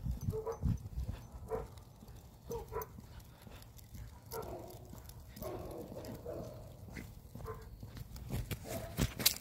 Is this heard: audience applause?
no